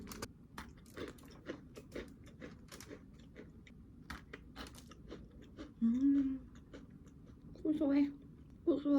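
Someone chews a dense, heavy coconut biscuit-style cookie close to the mic, with soft irregular crunchy clicks and a few hummed murmurs between bites.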